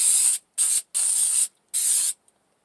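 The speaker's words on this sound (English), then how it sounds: "I'm going to spray the pan" Coconut cooking spray sprayed onto a baking pan for bread baked in a camp oven: four sharp hissing bursts of uneven length, close and loud, separated by short silences.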